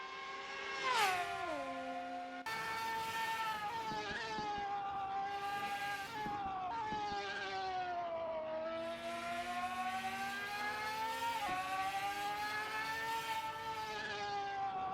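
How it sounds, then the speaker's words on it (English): GT500 race car engines in a racing video game scream at high revs, their pitch climbing and dropping through repeated gear changes as the cars run close together, loud and continuous with no voices. "Let's just sit back and enjoy the sound of these GT500 cars."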